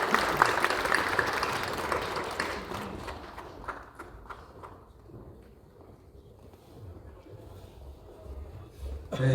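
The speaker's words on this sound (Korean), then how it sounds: "다시 한번 박수로 하나님께 영광 돌리겠습니다" Congregation applause at a Presbyterian presbytery regular meeting, loud and dense at first, then thinning and fading into a quieter murmur before a brief swell at the end.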